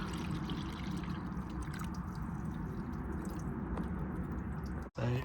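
Water poured steadily from a container into the coolant expansion tank of a Classic Mini Cooper, a continuous close trickling and splashing that runs for several seconds before stopping abruptly.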